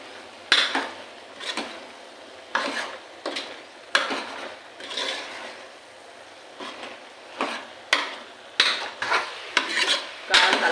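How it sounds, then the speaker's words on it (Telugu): A spoon stirs spicy mutton boti curry in a metal pot, with repeated close scraping strokes and sharp clanks against the pot's sides and a faint sizzle underneath, and no talking. "కావలసినంత కారం వేసుకోవాలి బాగా మిక్స్ చేయాలండి"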